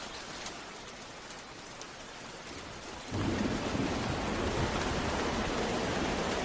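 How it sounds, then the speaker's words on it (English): Hail pelts a forest, with dense, hissing rain-like patter that grows suddenly much louder and heavier halfway through and then holds as a steady roar. "Hail peppers the forest."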